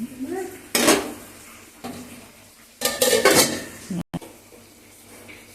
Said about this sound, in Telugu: అవి వేగాలి నూనెలో ఆయిల్లో మగ్గాలి